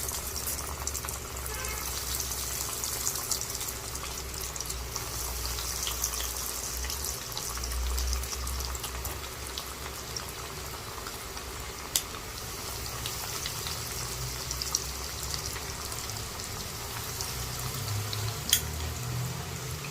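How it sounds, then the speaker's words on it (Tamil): Breaded fish fingers fry in hot oil in a home kitchen, giving a steady, continuous crackling sizzle that holds at an even level for the whole stretch, with a few faint clicks and no talk. "இப்போ எண்ணெய் காஞ்சிச்சு, எண்ணெயில் போடலாம்"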